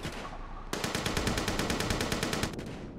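A sharp burst of rapid automatic assault rifle fire in the video game Ravenfield, evenly spaced shots rattling for about two seconds before cutting off.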